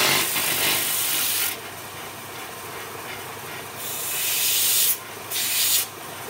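A grit pad is sanded and cleaned up in a workshop, producing loud, close abrasive rubbing in long sustained strokes with brief pauses and shifts in intensity, no voices present.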